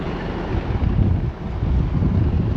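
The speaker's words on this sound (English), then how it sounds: "Very breezy up here." Wind gusting across the open deck of a cruise ship in port at Maui, a loud, steady buffeting roar blasting the microphone close up, with no one talking.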